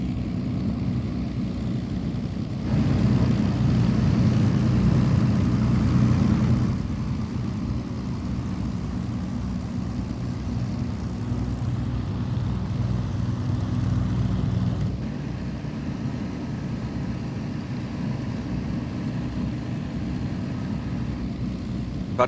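The engines of an Avro Lancaster heavy bomber produce a continuous low droning roar that swells louder for a few seconds, then settles back to a steady hum with no talking.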